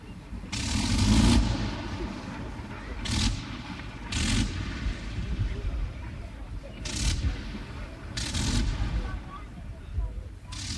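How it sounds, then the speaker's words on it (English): Avro 504 rotary aero engine blipping on and off, a rough low roar that surges in repeated bursts, cutting out and restarting several times at moderate distance. "you've got the sound you can hear of an engine going and then cutting out completely and then starting again"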